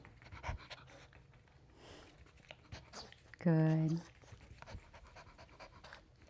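A dog pants quickly and audibly while being groomed at a dog grooming salon in Tampa, Florida, close by, with a short loud burst from a grooming tool partway through and a person speaking softly.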